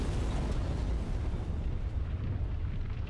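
Explosion in the Sunset Overdrive video game: a loud, deep, rumbling blast that fills the start and slowly fades and thins over about three seconds, heard alone.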